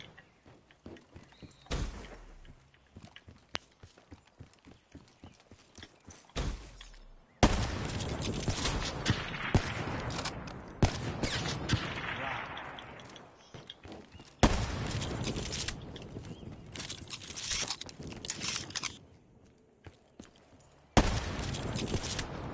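Sniper rifle gunshots in a 1v1 video game match come as sharp, loud cracks with sustained bursts of firing and brief quiet gaps, heard alone throughout.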